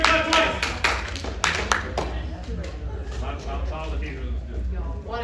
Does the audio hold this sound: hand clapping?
yes